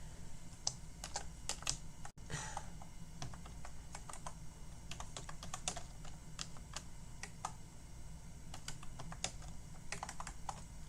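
Typing on a computer keyboard, a steady run of quiet irregular key clicks close by, with no talking.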